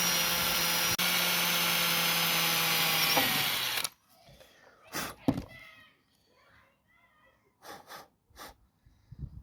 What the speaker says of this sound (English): so now we'll have to drill a hole through there and a hole through there